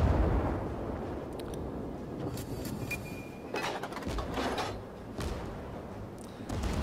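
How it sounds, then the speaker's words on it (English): Naval gunfire in World of Warships as two cruisers and a destroyer pound a Tenryu cruiser, a steady low rumble of booming shots and crackling impacts with a few sharper bursts, dense and continuous throughout. "He's got two cruisers and a destroyer firing at him now"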